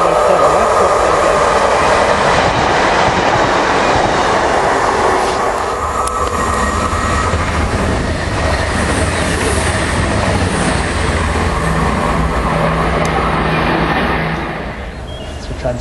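A train hauled by locomotive 56507 rumbles steadily past at Kirknewton, loud and close with rail clatter for most of the pass before fading away at the end.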